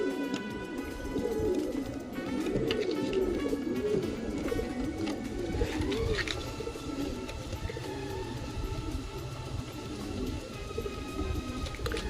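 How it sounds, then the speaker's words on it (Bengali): Pigeons in an outdoor loft coo in soft, repeated throaty rolls, several birds overlapping near the microphone over a constant low background hum. "এটা আমার বাইরের লফটের পায়রা।"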